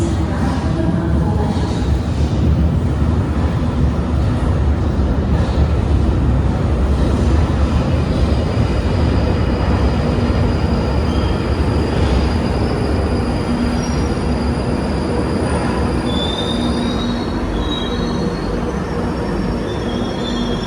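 A London Underground train rumbles loudly into the Camden Town platform toward Mill Hill East, a steady heavy roar of wheels and motors with thin metallic wheel squeal rising near the end.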